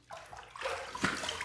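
Tap water running into a sink as a razor is rinsed, a close, steady splashing gush that builds quickly and continues with no voices.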